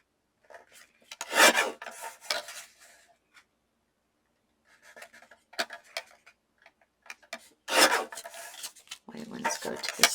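Scissors trim leftover paper scraps in short, close raspy snips and rubbing bursts, with quiet pauses between the cuts.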